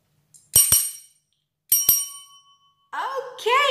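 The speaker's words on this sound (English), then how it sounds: "It's a bell." A small handheld bell is struck twice in quick succession with a bright metallic ring, then struck twice again after a pause, loud and near, followed by a person talking.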